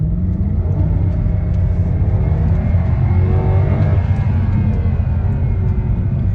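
A 2012 Mercedes C63 AMG in sport mode roars at full throttle, a loud, dense engine rumble with rising harmonics as it accelerates hard and continuously.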